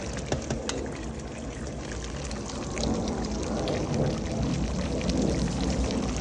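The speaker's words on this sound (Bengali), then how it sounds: "এই জন্য একটু পানি দিয়ে দিলাম" A splash of water poured into a simmering pot of chicken curry with potatoes; the steady, close pouring and bubbling wash grows slightly louder midway and continues without talk.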